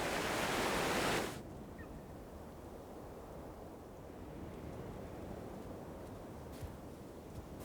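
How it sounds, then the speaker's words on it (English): Alpine meltwater surges during the spring thaw as a broad, rushing roar. A louder burst at the start settles into a steady, continuous torrent, heard alone without voices. "Higher up, the sound of the trumpets is drowned out by surging meltwater."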